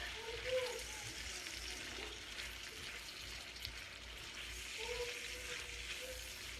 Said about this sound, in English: While that shrimp is cooking